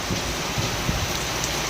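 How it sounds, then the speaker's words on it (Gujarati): Heavy rain pours steadily and loudly, a dense continuous roar of drops on surfaces with no break and no voices. "આટલે વરસાદ બહુ આવે"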